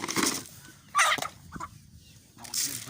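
Chickens in a coop with Pekin and Marans cross chicks, brief clucks and squawks scattered among rustling, close and moderately loud.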